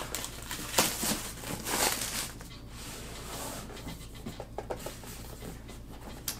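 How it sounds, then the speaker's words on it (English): Saran wrap is cut open on a DJI Mavic 2 Pro drone box, close and faint: soft crinkling, scratching and short plastic rustles come in scattered bursts, with quieter stretches between them. "we're gonna go ahead and just cut open the saran wrap"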